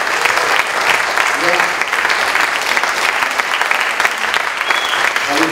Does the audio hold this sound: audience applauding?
yes